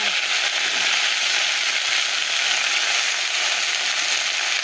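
Leafy greens frying in hot oil with garlic, onion and green chili, giving a loud, steady, close hiss of sizzling that holds evenly throughout with no talking.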